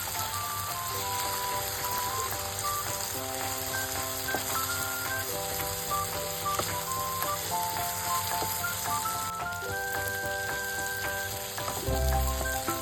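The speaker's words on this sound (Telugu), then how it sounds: "కొబ్బరిని కూడా మంచిగా ఫ్రై చేసుకోవాలి ఆయిల్లో" Coconut powder frying in oil while ridge gourd cooks in the pan, producing a steady close sizzle with soft popping crackles and occasional stirring, with no talking.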